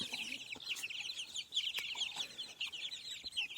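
Hens in a farmyard cluck and chatter close by, a busy run of short repeated clucks and bright calls overlapping one another over a few seconds.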